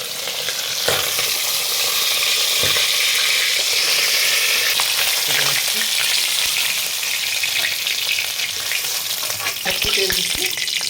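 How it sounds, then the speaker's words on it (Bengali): Fish sizzling steadily in hot turmeric-seasoned oil for a Bengal spicy tangra fish curry, a loud continuous crackle with brief spatters and faint stirring, no talk. "এবারে মাছগুলো ভাজবো আমি।"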